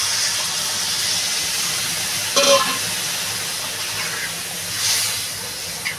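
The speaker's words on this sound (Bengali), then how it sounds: "আমি এবার পরিমাণ মতো জল দিয়ে দেবো" Water goes into a pan of sautéed potato and eggplant, producing a steady steamy hiss and sizzle with a couple of brief louder bursts, close and continuous.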